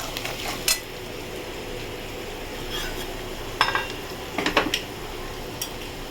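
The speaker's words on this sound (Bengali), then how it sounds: "এবার এটাকে আমি পেঁয়াজটা নেড়ে দিই।" Onions with cumin powder stirred in a pan while cooking a katla fish curry: sparse spoon scrapes and a few light metallic clinks over a faint, steady frying hiss, with no talking.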